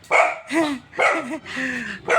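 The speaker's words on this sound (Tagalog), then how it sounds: "Kaya pala may aso pala dito eh." A dog, close by and loud, barks and yips in a quick run of five sharp, whining barks with brief gaps between them.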